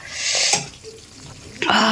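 Tap water runs into a cooking pot for rice in a home kitchen, a steady rushing splash that fades midway and then surges again, with a voice talking over it.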